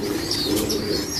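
Pigeons kept in a loft, fed grass pea grain, give soft cooing and chirping calls, with faint wing flutters, close by and steady throughout.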